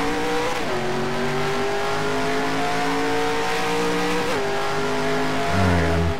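A race car engine in the NR20 racing game at Mid-Ohio, droning loud and steady under throttle, its pitch dropping sharply twice as the car brakes and shifts, then rising again.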